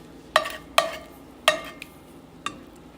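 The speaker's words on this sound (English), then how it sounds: "So we're just gonna scrape the skillet" A utensil scrapes a buttery skillet in a few sharp, separate strokes, close and fairly loud, with quiet gaps between each scrape.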